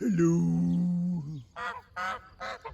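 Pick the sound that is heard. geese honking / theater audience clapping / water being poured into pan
geese honking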